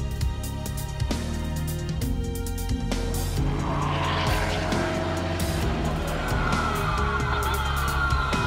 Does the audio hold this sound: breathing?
no